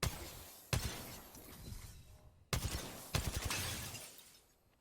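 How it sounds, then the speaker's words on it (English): Gunfire breaks a pair of Rampart's amped cover walls in Apex Legends, with sharp shattering bursts at about three moments, each followed by a crackling decay of falling fragments. "Shooting through one of these does not shoot through the other one. It will break the other one"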